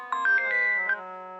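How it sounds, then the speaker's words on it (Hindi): A mobile phone ringtone plays a short, clear electronic melody of a few bright tones, then rings on as a sustained note, alone and fairly quiet. "चौधरी साहब का फोन है।"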